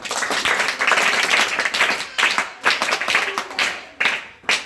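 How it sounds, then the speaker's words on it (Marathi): Several people clap for a young girl in a home setting: a dense burst of applause first, then separate rhythmic bursts of claps that fade out, with faint voices underneath. "तिच्यासाठी टाळ्या वाजा."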